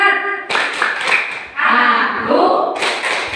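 A group of elderly people at a Kartini Day event in Indonesia does a rhythmic patterned clap, with sharp hand claps mixed with chanting and singing voices.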